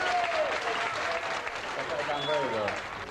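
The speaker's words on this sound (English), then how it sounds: "I thought they all deserved a good round of applause." Warm audience applause for darts players at an exhibition night, steady and fairly loud throughout, with a few voices talking underneath.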